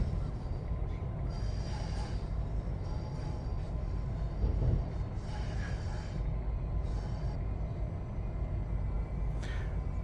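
A Class 350/1 electric train in Train Sim World 5 runs fast along the track, giving a steady low rumble of wheels and motors heard from inside the cab, with faint intermittent clicks and hisses over it and no talking.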